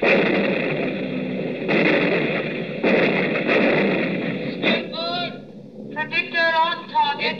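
Anti-aircraft gunfire effect in a WWII radio drama, heavy booming blasts repeating under shouted voices, followed by rising whistling tones near the end.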